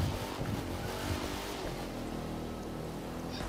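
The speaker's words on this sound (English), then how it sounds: "this thing sounds like a freaking, like a legitimate drift car" A drift car's engine in the racing video game The Crew 2 drones steadily at moderate volume, with a rough, throaty tone that holds without pause.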